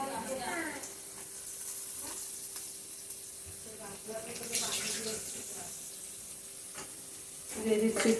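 Potatoes frying in a pan over a gas flame with a ground paste of ginger, green chili, cumin and coriander, giving a steady, fairly soft sizzle that swells slightly near the end.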